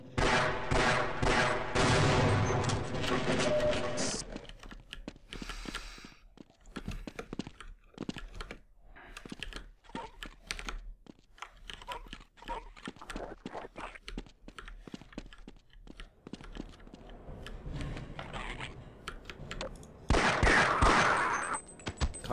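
Bursts of rapid gunfire from Half-Life crackle over a busy, cluttered mix of synthetic effects, with a loud sustained blast at the start and another near the end.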